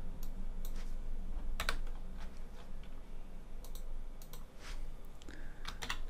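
Computer keyboard and mouse used at a desk: steady close typing with scattered sharp clicks over a low background hum, and no talk.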